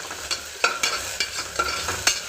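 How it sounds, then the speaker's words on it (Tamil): A coriander masala paste is fried and stirred in a pan, a soft close sizzle broken by regular scraping strokes of a spoon against the pan, about two or three per second, with no talk. "மல்லித்தூள் போ பேஸ்ட்டு நல்லா பச்சை வாசம் போகிற வரைக்கும் வணக்கிக்கலாம்"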